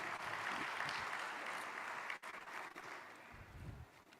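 Broad, dense applause from a large crowd honoring the President fills the room at a government event, a steady wash of many hands that dips briefly and then tails off, with a faint voice rising near the end.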